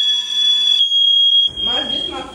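A fire alarm sounds in an apartment building as a steady, piercing high electronic tone that runs through the whole stretch, with people talking beneath it in the latter part.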